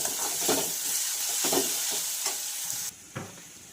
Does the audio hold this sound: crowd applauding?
no